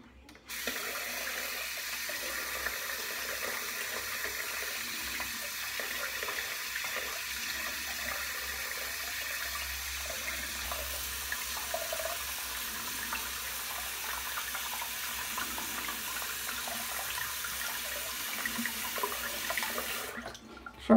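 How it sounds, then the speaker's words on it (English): Water from a tap runs steadily and loudly for the whole stretch, a continuous splashing rush into a sink that stops abruptly near the end. "Sorry about the sound of the water"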